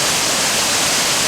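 Benlister waterfall, about 50 feet high, white water crashing and bubbling down over rocks at a steep angle, a loud, continuous broadband roar heard up close with no other sounds.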